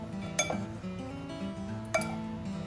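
Bitter gourd salad ingredients, including carrot, being tossed together in a bowl, with a couple of light clinks of utensils against the dish over soft rustling.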